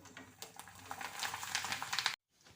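Large bhungla fryums fry in hot oil for chevdo, giving a brief burst of close, busy crackling and bubbling that cuts off abruptly.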